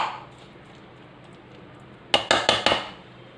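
A metal pan is handled on a kitchen stove, with a quick series of four sharp clanks and clinks near the end after a quiet stretch of low background hiss.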